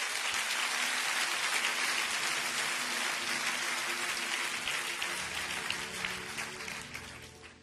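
A church congregation claps together in sustained, dense applause that stays steady and fairly loud throughout, then tapers slightly toward the end.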